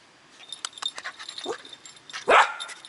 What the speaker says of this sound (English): You're a beautiful little pup, aren't you?